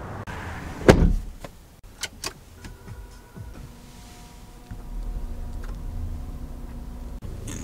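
The hatch of a 2024 Volvo V90 Cross Country opens with a sharp latch clunk near the start, followed by a few soft ticks and faint mechanical hums as the liftgate rises in a quiet setting.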